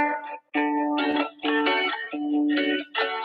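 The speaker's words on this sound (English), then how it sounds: "Now both guitars together sound like this." Two guitars play together in a bouncy, swinging pattern, short bright strummed chords coming in rhythmic bursts with brief gaps between them, close and clear with no talking.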